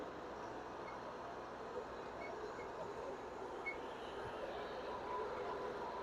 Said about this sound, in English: So now that we have our unit running, RPM is up, our remote is synced